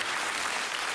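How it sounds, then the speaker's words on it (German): A German TV studio audience breaks into brief, dense applause for a guest, a steady close wash of clapping. "Applaus für Annelie"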